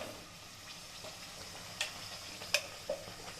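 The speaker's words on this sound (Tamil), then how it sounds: "நல்லா கிண்டுங்க." Tomato, onion, garlic and ginger paste for fish curry being stirred in a pan, with a soft low sizzle underneath and a few faint spoon taps and scrapes against the vessel.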